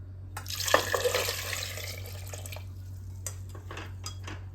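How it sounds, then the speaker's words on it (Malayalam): Water is poured onto halved potatoes in a pressure cooker, making a gushing, splashing pour for about two seconds. Light metallic clinks and taps of the pot follow, close by, with a steady background hum. "ഇതിൽ വെള്ളം ഒഴിക്കാം"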